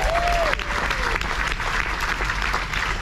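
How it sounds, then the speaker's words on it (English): Passengers aboard the Sky Princess cruise ship clap for themselves on the last sea day, loud sustained applause filling a large room, with a brief whistle-like tone near the start. "Can you give yourself a round of applause, please?"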